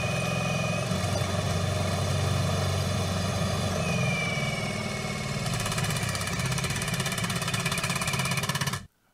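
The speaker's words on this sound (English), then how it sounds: "Now we're going to test and see how much rotational force or torque each one of these drills can produce. We're going to do each drill in high speed first." A Ryobi compact drill/driver runs at high speed during a torque test, giving a loud, steady motor whine with a busy mechanical buzz that strains slightly partway through before cutting off abruptly at the end.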